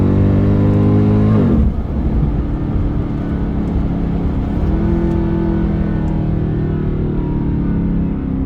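A 2007 Mercedes-Benz CLK63 AMG engine roars loudly in a hard rev that drops off after about two seconds, then settles into a steady, deep, rumbling run close by.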